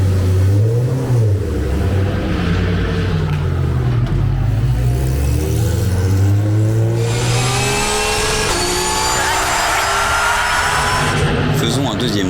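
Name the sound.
Audi R8 LMS GT2 race car engine on a lap at Hockenheim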